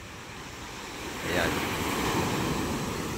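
Large surf driven by monsoon winds on a Tanza, Cavite shoreline rushes and crashes in a steady broadband roar that swells midway, with wind buffeting the microphone and a brief spoken word.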